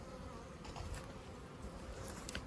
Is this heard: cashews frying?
no